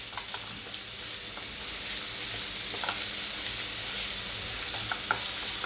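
Finely chopped tomatoes fry for sev bhaji in a pan over high heat, a soft, even sizzle with occasional faint stirring clicks.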